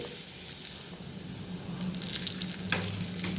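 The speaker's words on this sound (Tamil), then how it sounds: "நல்லா பொரிஞ்சு பாருங்கள் பூண்டெல்லாம் நல்லா ப்ரௌன் கலர் ஆனதுக்கு பிறகு அது வரைக்கும் நல்லா வதக்கி விடுங்க" Garlic and onion frying in a pan for a palak lasooni dish, a steady close sizzle with a soft clatter of stirring partway through and no voices.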